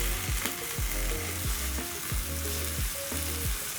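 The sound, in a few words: chicken pieces frying and being flipped in a pan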